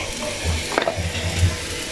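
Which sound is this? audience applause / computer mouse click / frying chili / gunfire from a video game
frying chili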